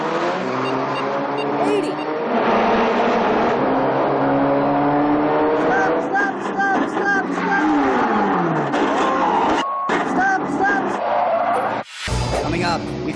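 Top Gear USA's Ford Fiesta launches hard with heavy wheel spin, a loud, sustained engine roar climbing through the gears with tire scrabble, overlaid by a voice counting speeds and a brief cut near the end.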